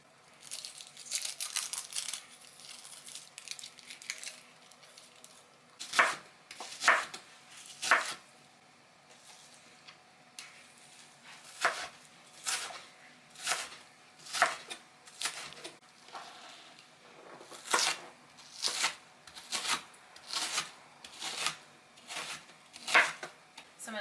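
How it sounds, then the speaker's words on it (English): A knife chops through a whole onion on a cutting board in a home kitchen, a quiet start giving way to a steady run of sharp, crisp cuts spaced at an even, unhurried rhythm, close and fairly loud. "I think I'm going to go ahead and cut up the entire onion"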